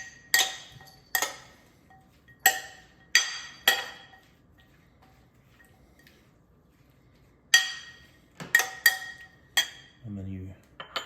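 A big spoon tosses green papaya salad in a bowl, giving sharp scattered clinks and scrapes in irregular bursts with quiet gaps between, and a short low rumble near the end.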